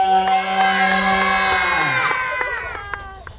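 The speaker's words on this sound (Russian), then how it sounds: "Все кубки подняли, кричим «Ура!»." A group gathered after a tennis tournament in Gagra, Abkhazia cheers together with trophies raised, a loud sustained crowd shout that fades out over a few seconds.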